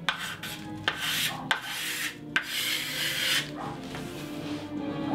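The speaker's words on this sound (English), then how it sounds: "I found my scraper, which is a much better idea. And I'm just scraping to get that glue off." A hand scraper drawn over a wooden bow lamination strips off dried glue in a series of rough, raspy strokes, each starting with a sharp catch, close and steady.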